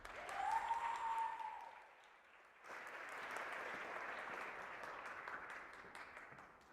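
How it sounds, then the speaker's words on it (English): Live audience applause at a tech conference keynote, a broad wash of clapping that dips briefly midway, then swells again and holds steady to the end. "Everyone, please give a big round of applause for Claire Williams."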